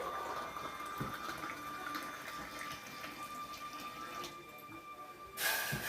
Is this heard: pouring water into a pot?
yes